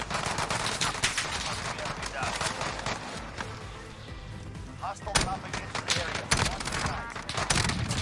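Rapid automatic gunfire in Call of Duty Warzone, with sustained bursts and sharp single cracks layered over a crowded firefight, a voice talking underneath throughout.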